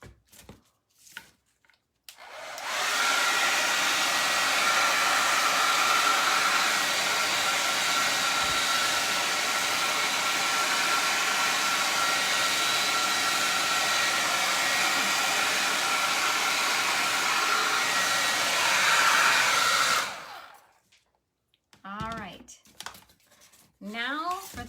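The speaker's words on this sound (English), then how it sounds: "I like to hit it with a hairdryer" A hair dryer blasts heat over a decorated pumpkin, a loud, steady rushing whoosh that starts abruptly, holds for about eighteen seconds and then cuts off, with brief quiet handling sounds before and after.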